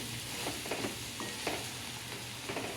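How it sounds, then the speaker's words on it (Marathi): Chopped chili and carrot, sprinkled with salt, are stirred in a hot pan with a low sizzle underneath and a few soft scrapes and clicks of the spoon, close and steady, with no voices. "असं मिक्स करून घ्यायचं"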